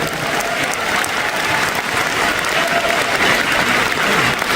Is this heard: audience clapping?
yes